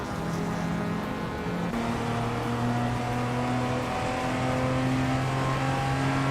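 Racing cars in a video game, among them a 1978 Ford Mustang King Cobra, drone steadily at close range, their engine notes holding and shifting pitch as they run together, with no talk.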